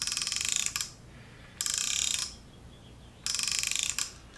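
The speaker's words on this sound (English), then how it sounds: "we have a baby rattle. That's a neat noise." Three bursts of rapid plastic ratcheting clicks from a baby rattle, like a watch winder, close and crisp, separated by short quiet gaps.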